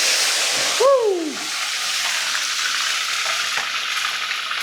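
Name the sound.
chicken for ayam gepuk frying and splashing in hot oil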